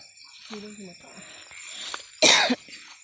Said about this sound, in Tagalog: Ang ubo ko mga labis.